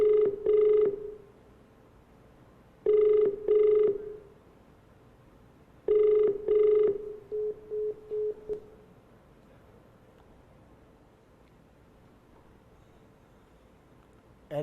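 Telephone ringing on an outgoing call, a repeating double-burst ring tone in three clear cycles with silent gaps, followed by shorter broken tones and then quiet.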